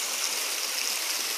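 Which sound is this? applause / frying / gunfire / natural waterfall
natural waterfall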